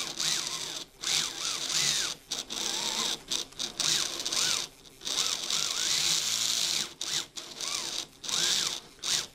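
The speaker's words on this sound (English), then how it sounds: "So you just rock the car back and forth here on the sanding block." A Carrera Digital slot car's motor whines in repeated bursts as its tires spin against a sanding block, rising and falling in pitch as the car is rocked back and forth, with short silent gaps between runs.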